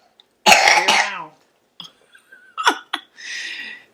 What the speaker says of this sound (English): I still got more burps coming, you guys